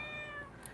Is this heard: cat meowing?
yes